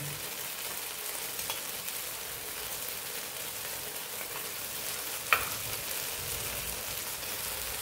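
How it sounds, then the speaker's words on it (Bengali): Rava dosa batter fries in oil on a pan with an even, close sizzling hiss that runs throughout, broken once by a single sharp click, and no one speaks. "একটু সময় লাগে এটা ভাজতে।"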